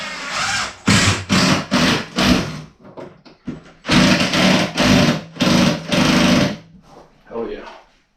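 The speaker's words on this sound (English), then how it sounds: "hopefully these screws will grab something good in this floor." A power drill drives screws into the floor of an abandoned cabin under renovation, in several loud, close bursts of a few seconds each, broken by short pauses.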